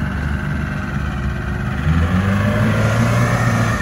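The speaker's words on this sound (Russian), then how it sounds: "Стучит мотор." A knocking off-road trophy-sprint vehicle engine runs with a rough, low rumble, its pitch rising partway through as it works harder, close and continuous.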